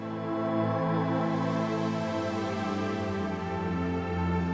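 A sustained, wide Korg Wavestate synth pad with dense harmonic layers hangs steadily throughout, washed in long reverb tails, playing alone without any talking.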